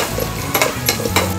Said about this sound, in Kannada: ಈಗ ಸ್ವಲ್ಪ ಫ್ರೈ ಮಾಡೋಣ.